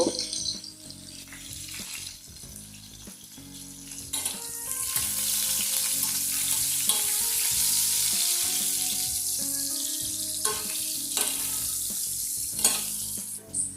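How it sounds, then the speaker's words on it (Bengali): Potatoes with salt and turmeric fry in hot mustard oil, giving a close, steady sizzle that swells and eases as a utensil stirs and scrapes the pan at intervals. "কিছুটা সর্ষের তেল দিয়ে দিলাম তেলটা গরম হয়ে গেলে আগে থেকে কেটে রাখা আলুগুলো পরিমাণ মতো নুন আর হলুদ দিয়ে লাল লাল করে ভালোভাবে ভেজে নেব"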